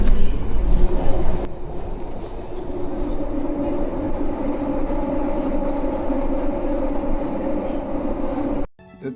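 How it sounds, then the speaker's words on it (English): A self-driving metro train in Barcelona hums and rumbles steadily on the move, a loud, even interior drone with a sharp clunk at the start and an abrupt cut near the end. "there was a metro in Barcelona that is actually self-driving"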